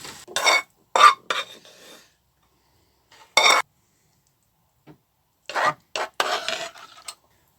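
A silicone spatula scraping satay sauce from a pan, several short, sharp scraping strokes in bursts separated by silences, close and fairly loud with no talking.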